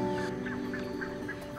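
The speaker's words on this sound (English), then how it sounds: "Water birds are now ready to lay their eggs. They muster in great numbers." Large flocks of water birds gather at wetland nesting grounds in Brazil's Pantanal during the dry season, calling in repeated honking, goose-like cries over a dense, steady chorus of many birds.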